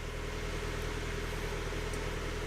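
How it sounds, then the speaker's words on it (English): Low, steady rumble of a Mazda Miata engine idling smoothly after new spark plugs and plug wires, even and continuous without revving, heard up close with no voices. "It's idling better. The engine sound just feels better."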